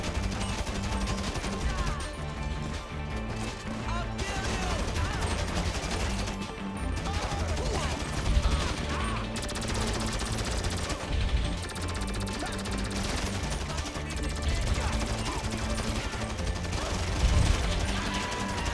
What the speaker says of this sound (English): That machine gun just fucking annihilated me.